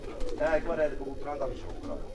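A racing pigeon, a Tiger pigeon, coos in a few soft rolling phrases close by, with a voice speaking over it.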